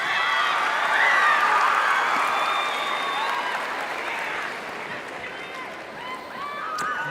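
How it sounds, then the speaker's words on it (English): A convention crowd applauds at a state convention session, broad clapping and cheering that swells early and then gradually fades, with some voices mixed in. "to this huge round of applause"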